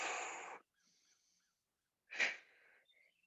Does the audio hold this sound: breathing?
yes